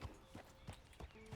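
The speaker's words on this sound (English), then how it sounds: "Those are horses." Hooves clip-clop at an even trotting rhythm, about four soft thuds in quick succession, as horses move along in the video game Red Dead Redemption 2, faint and low in the mix.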